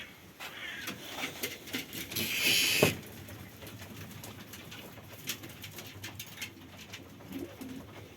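Domestic pigeons (Konya Arabı breed) coo softly against a rustling, noisy background, with a brief louder flurry of movement partway through.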